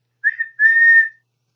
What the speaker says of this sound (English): Toby and Thomas always whistled to Mrs. Kindly when they passed her cottage.